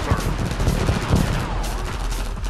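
In the real-time strategy game Red Alert 2, a skirmish on the Kikematamitos map produces dense, continuous gunfire. Rapid machine-gun bursts overlap with heavier impacts in a loud, unbroken barrage.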